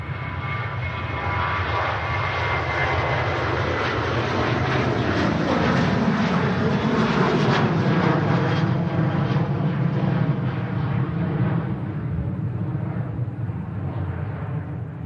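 A Ryanair Boeing 737 jet departing Manchester Airport for Budapest, a loud, sustained engine roar that swells in the middle and eases slightly toward the end, heard alone without speech.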